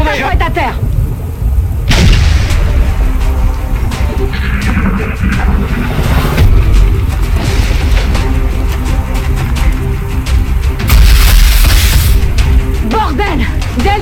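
Gunfire and explosions ring out in a battle in the video game XCOM: Enemy Unknown, with loud booms and crackling shots over a rumbling backdrop and a voice speaking French through the fighting.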